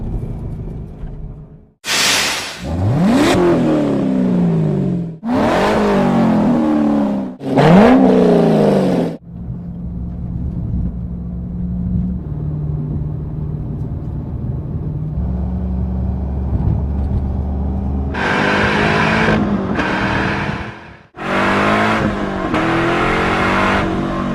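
A car with a Borla exhaust fires off repeated sharp, loud throttle blips close up, falls back to a deep idle burble for several seconds, then snaps through another run of quick rising revs; nobody speaks.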